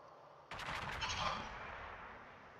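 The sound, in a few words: naval gunfire in a video game (World of Warships)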